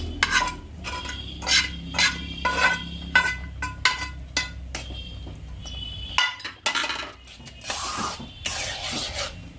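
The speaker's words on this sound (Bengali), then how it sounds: "এটা গলে যাবে, চিকেনটা দিয়ে দিচ্ছি।" Chicken goes into a pan of white sauce for pasta and is stirred, with a spoon scraping and clinking against the pan in steady, close, repeated strokes and no talking.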